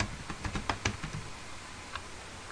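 Brisk typing on a computer keyboard while entering a search term into time and attendance software, a quick burst of close key clicks that slows to a few isolated taps, with no one talking.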